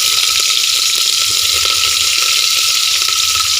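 Curry leaves and onion sizzle steadily in hot oil for a rasam tempering, a close, continuous crackling fry with faint stirring and no talk.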